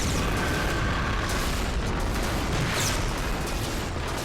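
Buildings blown apart by gunfire in the Global Defence Force video game, a dense, loud and continuous rumble of booms and blasts with no pauses.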